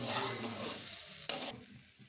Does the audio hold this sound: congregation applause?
no